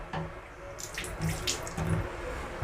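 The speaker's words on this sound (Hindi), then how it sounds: "नल है, पानी आ रहा है" Water runs from a tap into the washroom sink aboard an express train from Howrah to New Delhi, a steady splashing stream with a few louder gushes, close by and heard on its own.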